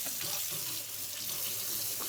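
A kitchen tap runs steadily into a sink to cool food with cold water while a lasagna is made, a constant close rushing stream with no speech.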